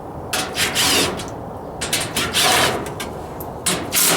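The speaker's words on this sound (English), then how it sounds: "we're going to take these four screws out." A 5/16 driver backs screws out of a panel on an older Maytag dryer, giving loud close whirring bursts that start and stop several times in a row with brief gaps.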